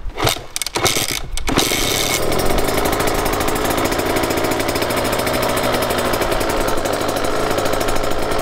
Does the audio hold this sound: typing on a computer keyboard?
no